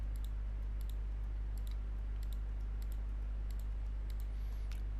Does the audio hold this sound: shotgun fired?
no